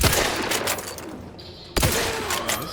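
Gunfire from a gun in The Outer Worlds 2 video game, heard as two bursts of loud, sharp shots near the listener. A brief lull separates them.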